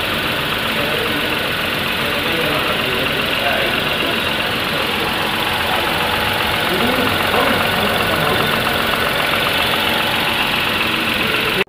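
A Tata Punch 1.2-litre three-cylinder petrol engine idles with a steady, loud, vibrating drone that runs throughout, with someone talking over it.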